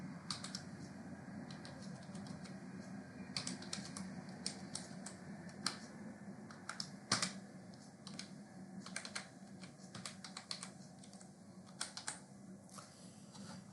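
Password being typed on a computer keyboard: quiet, irregular bursts of close key clicks with short pauses between them, no talk.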